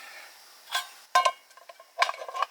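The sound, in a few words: old metal frying pan being handled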